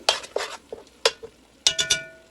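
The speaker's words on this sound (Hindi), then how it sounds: "इसे अच्छे से हम चलाते रहेंगे।" Coarsely ground saag greens get stirred in a pan over a low flame, a series of scraping, wet stirring strokes with light sizzling between them, close and clear with no talk.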